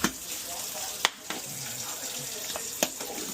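Cold water runs steadily from a kitchen tap into a sink, a constant hiss with a few sharp splashes and clunks, no talking.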